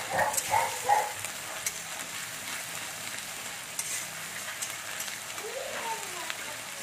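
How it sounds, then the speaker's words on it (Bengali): Ginger-garlic paste frying lightly in a pan for egg curry: a soft continuous sizzle with a few stirring scrapes near the start and a brief squeak later, at moderate volume. "আদা রসুন বাটাটা একটুখানি ভেজে নিচ্ছি হালকা করে।"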